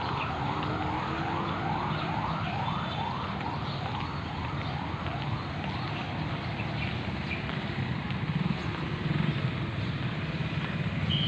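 An ambulance siren wails, sweeping up and down repeatedly at a moderate distance, over steady traffic rumble and street noise.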